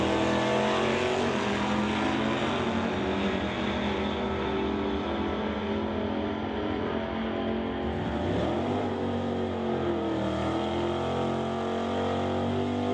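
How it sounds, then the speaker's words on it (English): A Cuda and a Dodge make a drag racing qualifying pass at an NHRA Summit ET Series race, engines roaring loud and continuous with a pitch sweep as they pass. "This is their qualifying pass for today's race, and that is Benke in the Cuda and Stone in the Dodge"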